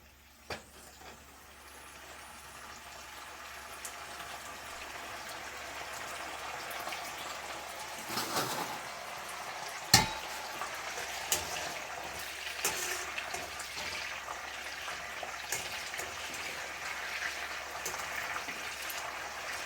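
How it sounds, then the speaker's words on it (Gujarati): The sev khamani mixture simmers in a pot on a gas stove turned up high, with soft bubbling that builds gradually. Occasional small pops and splutters rise over a low, quiet hiss. "હવે થોડુંક હજુ આપણે એને ઉકળવા દઈશું"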